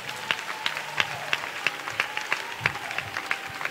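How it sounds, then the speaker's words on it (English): A church congregation claps and applauds at a fairly faint level, with scattered, irregular hand claps across the whole stretch. "Clap for Jesus."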